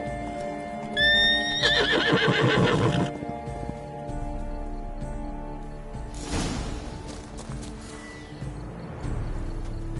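Roach, the horse in The Witcher 3, neighs loudly in a long whinny with clip-clopping hooves, followed by quieter ambient game sounds and a later thud.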